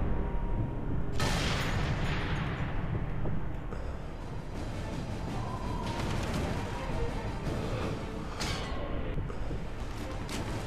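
Sniper rifle shots ring out in the video game Sniper Elite 3, with a sharp crack that trails into a long rumble and a second blast later, over dense, noisy game ambience.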